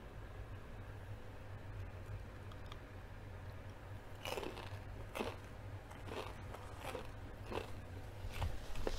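Several crisp crunching bites into whole deep fried chicken, with a burst of sharp crackles in the latter half over a quiet, steady background hum, close to the microphone and with no talking.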